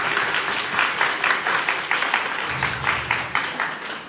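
Audience applause fills a packed synagogue during an evening talk, a dense steady clapping from many hands that stays loud and even for the whole stretch, with no voices rising above it.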